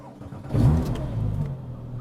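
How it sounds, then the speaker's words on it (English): A Porsche GT2 twin-turbo engine fires up close by with a short, subdued starter whir and brief rev, then settles into a low steady idle. "Let's get the engine up."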